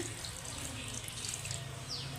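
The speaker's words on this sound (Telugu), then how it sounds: "కొద్దిగా నీళ్ళు ఎక్కువ వేస్తాను" Water pours into a pot of chicken and drumstick curry, a short steady splashing stream, faint and close, with no one talking.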